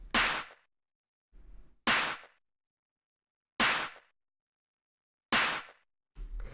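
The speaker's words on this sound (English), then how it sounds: "Next sound that we have here is the clap," An unprocessed, hard-hitting clap sample for an industrial techno track: four loud, dry, sharp claps spaced over a second apart, with quieter, duller hits falling between them and silence in the gaps.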